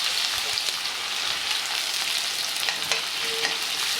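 Finely chopped onions sauté in hot oil with a continuous crackling sizzle and a few light stirring scrapes, close and fairly loud.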